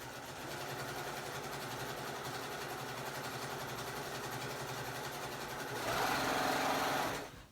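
A sewing machine stitches binding onto a Thanksgiving placemat, a steady rapid mechanical whir heard close for several seconds, rising louder and faster near the end before stopping abruptly.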